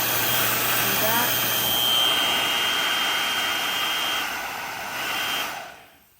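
A small F350 ionic 1800W professional hair dryer blows steadily with a loud, even airy roar and faint whine, then winds down and stops near the end.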